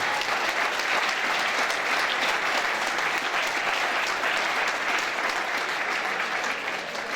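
A boxing crowd applauds the two fighters in the ring after the bout, a steady, dense wash of clapping that holds at an even level throughout with no break.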